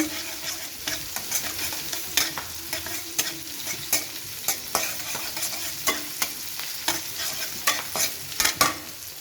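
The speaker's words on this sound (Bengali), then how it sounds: "এখন দিয়ে দেব রসুন কুচি একটু নেড়ে নিচ্ছি" Chopped garlic stirred and frying in a hot pan while cooking a hilsa fish and water lily dish: a steady sizzle broken by repeated rhythmic scraping strokes of the spoon, close and alone.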